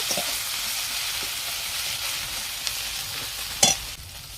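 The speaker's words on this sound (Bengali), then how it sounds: "মশলাটাকে ভালোভাবে কষে নেব" Spice paste frying and being stirred in a pan for a cabbage and freshwater snail dish, a steady close sizzle with occasional scraping stirs and a brief sharp clatter near the end, no talking.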